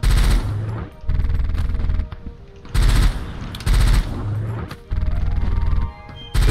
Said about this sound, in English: Laser beams.